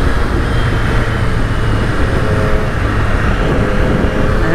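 A 2020 Triumph Street Triple RS being ridden, its engine a steady, loud drone heavily mixed with rushing wind buffeting, constant through the short stretch with no gear changes standing out.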